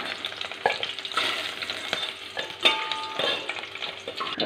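Okra sautés in hot oil in a pan for a masala curry, a loud steady sizzle broken by stirring scrapes and light clinks of a spoon against metal, with no talking.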